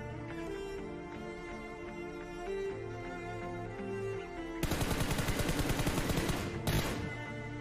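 Game music plays alone at first, then loud rapid bursts of automatic gunfire in the mobile battle royale game BGMI erupt and run for a few seconds, with a short final burst.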